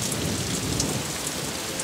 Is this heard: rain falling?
yes